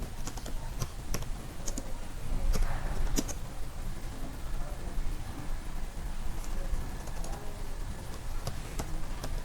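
Keys clatter on a computer keyboard as HTML code is typed, irregular close clicks in short bursts and single taps over a quiet room background.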